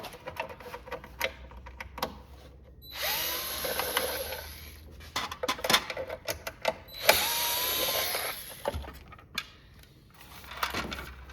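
Screws being backed out of the cover of a Minn Kota PowerDrive trolling motor: two loud, sustained mechanical whirring bursts, each a second or so, with scattered small clicks and ticks of metal parts before, between and after.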